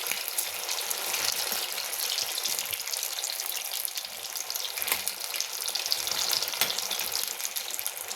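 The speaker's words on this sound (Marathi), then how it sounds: "मोठ्या गॅसवर ह्या वड्या आपल्याला तळून घ्यायच्यात." Coriander wadi deep-frying in hot oil over high heat, a continuous bubbling hiss at close range with small crackles, no talking.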